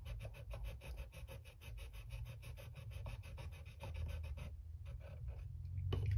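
A screwdriver tip's sides are polished against a sharpening stone for gunsmithing, a quiet, steady back-and-forth rasping stroke repeated rhythmically at close range for several seconds before it stops.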